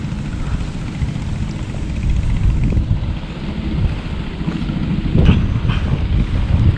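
Strong wind blowing by a natural canal during cast-net fishing, a loud, continuous rushing roar buffeting the microphone that swells and eases, with a few faint clatters mixed in.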